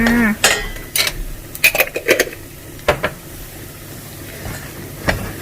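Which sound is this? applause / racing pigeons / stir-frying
stir-frying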